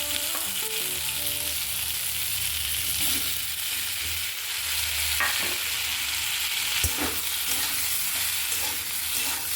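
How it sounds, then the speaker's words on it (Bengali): Boiled potatoes and lentils sizzle in a pan as they are stirred and fried, a close, constant hiss with occasional scrapes and knocks of the spoon, and no speech. "আলু, ডাল সব কিছু সিদ্ধ করে নিয়েছি একসাথে, আর তাই দিয়ে রান্নাটা করছি"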